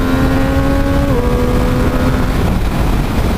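A Yamaha MT-09 SP motorcycle engine accelerates on a wet road, a steady loud drone whose pitch climbs briefly, dips at a gear change around the middle and then holds under heavy wind rush.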